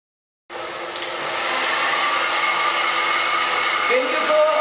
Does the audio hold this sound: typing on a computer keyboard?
no